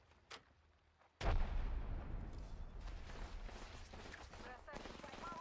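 A frag grenade goes off in Apex Legends after a faint earlier pop: a sudden sharp blast, then a sustained rumbling, crackling tail with more gunfire and faint game voices beneath.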